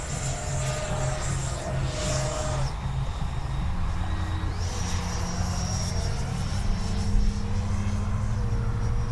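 A Freewing 70mm Yak 130 RC electric ducted-fan jet roars through an inverted flying pass, a sustained whine that shifts in pitch as it sweeps by, with no talk over it.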